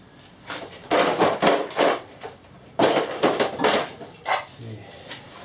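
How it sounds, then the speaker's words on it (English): Metal spanners and sockets clatter and clank as a hand rummages through a box of tools in a garage during VW camper engine work, with several loud bursts of jangling separated by brief pauses. "I've got a box load of spanners and sockets and everything over here."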